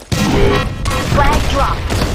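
A grenade goes off during a capture-the-flag match in a shooter video game: a loud, sudden close blast followed by a sustained rumbling, crackling burst that stays dense to the end.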